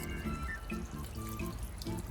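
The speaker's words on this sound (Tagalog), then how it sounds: "at ang isang baso ng tubig" Water pours into a cooking pan of string beans adobo, a continuous close splashing gurgle with no talk.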